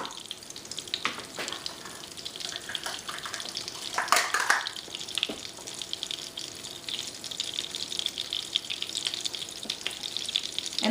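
Plain white flour hitting melted butter in a pan for a béchamel white sauce, giving a steady frying hiss and sizzle with a brief louder burst near the middle; no voices.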